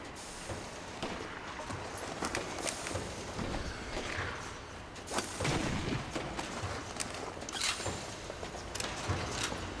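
Gunfire in the sniper game Sniper Elite 3, with scattered shots and impacts cracking irregularly over a dense noisy battle backdrop, fairly steady in loudness with no clear talk.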